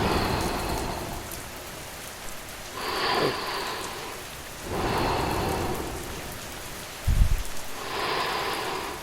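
Rain falls in a steady patter that swells into heavier washes every few seconds, with a short low rumble near the end. No one speaks.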